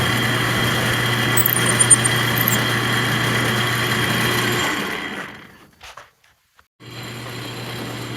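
A lathe turns work against a stationary drill bit during an antique Corley sawmill restoration: a steady machine hum with a high whine runs for several seconds, then winds down to near silence before the motor starts up again.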